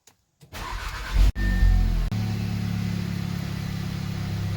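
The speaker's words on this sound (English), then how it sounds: "this is from a cold start with my new NGK R7437-9 spark plugs" Cold start of an Audi S3 engine fitted with new NGK R7437-9 spark plugs: a short crank and catch, a brief loud revving flare, then a steady, close idle running alone.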